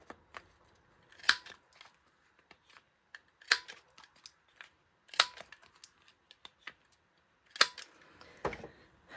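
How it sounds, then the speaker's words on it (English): A paper corner rounder punch trims the corners of journal pages: a series of sharp, crisp snaps spaced a couple of seconds apart, with quieter clicks and rustles of paper between them, close and alone. "Let's get the corner rounder out. I think I need to round these corners."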